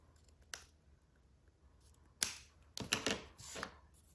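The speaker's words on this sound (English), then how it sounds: "I'm going to take my little detail scissors and I'm going to trim my corners down" Small detail scissors trim the corners of paper in a quiet room, giving a few crisp, close snips: one isolated cut, then a cluster of quick clipping sounds.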